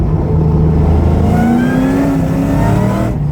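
A Ford Mustang V8 (2007–2010 GT500 or S550) dropped into third gear roars loudly and pulls hard, its engine pitch climbing steadily under throttle before easing off near the end.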